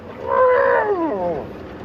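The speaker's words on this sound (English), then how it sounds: "elephant chastising another." On a sunrise safari in Sabi Sand, an elephant gives a single loud, rumbling, trumpeting call that bends downward, one elephant chastising another, heard fairly near in the open bush.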